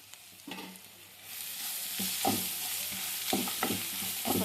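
Grated carrot with salt frying in a pan for carrot rice, a steady close sizzle with several stirring scrapes and clinks.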